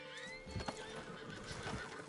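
Horse neighing in the video game Red Dead Redemption 2, a single drawn-out whinny heard over steady game ambience and light hoof clatter.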